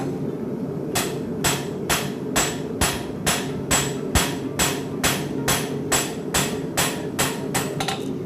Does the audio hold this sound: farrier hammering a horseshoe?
yes